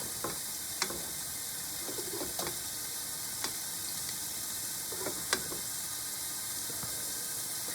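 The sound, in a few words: frying Fleischschnaka meat rolls in a pan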